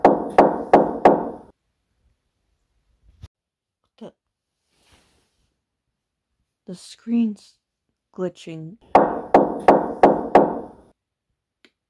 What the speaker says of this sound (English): I just heard a knock at the door.